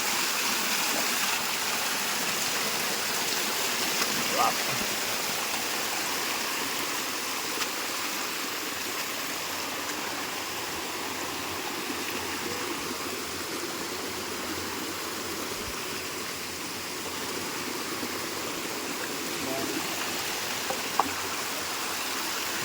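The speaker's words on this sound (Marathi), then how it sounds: "सुंदर असा धबधबा आहे छोटासा" A small forest waterfall pours in a steady, unbroken rush of falling water that stays even and close throughout, with no voices over it.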